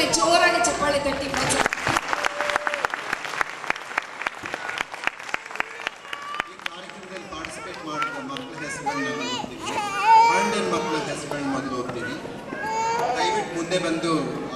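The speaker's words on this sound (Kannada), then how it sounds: "ಇನ್ನೊಮ್ಮೆ ಜೋರಾಗಿ ಚಪ್ಪಾಳೆ ತಟ್ಟಿ" Audience applause breaks out at an Ugadi festival dance show, dense clapping over the first several seconds, then crowd noise with children's voices, cheering and talk filling the rest.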